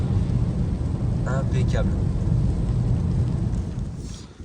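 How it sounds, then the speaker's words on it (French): Rain falls steadily at a motocross track in Latvia, a dense, loud wash of noise with low rumbling throughout, while a voice briefly speaks partway through. "Comme vous pouvez le voir, il pleut."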